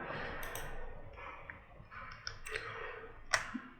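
Computer mouse clicks while working in Photoshop: several sharp, close clicks scattered over about four seconds against a quiet room background.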